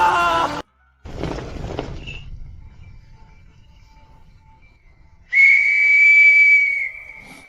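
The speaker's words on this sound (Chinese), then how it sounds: "哨子你留着，以后不用吹" A whistle is blown twice: a short burst at the start, then a steady, loud shrill tone near the end, with a quiet stretch between.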